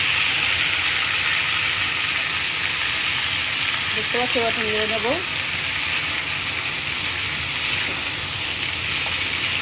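Potatoes and green plantain fry in a wok with a strong, even sizzle. A voice speaks briefly over it midway.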